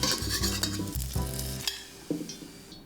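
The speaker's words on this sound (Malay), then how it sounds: "Kalau tak nak tauhu melekat bila goreng, kuali kena betul-betul panas ya." Tofu sizzles in hot oil in a wok as a spatula scrapes and stirs, with short clanks of metal, close by.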